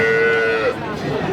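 A Holstein Friesian dairy cow moos loudly and close at a busy cattle market, one long drawn-out call, with voices and crowd noise around it.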